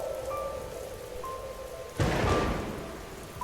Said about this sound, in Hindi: बारिश अब थोड़ी तेज होने लगी थी।